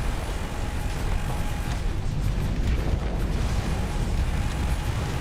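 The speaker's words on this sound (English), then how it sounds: "God, I love the sound of just like Vulcan cannons." Vulcan cannons and missiles fire in a Starsector space battle, a dense, unbroken roar of rapid gunfire layered with booms, loud and continuous throughout, with no talk.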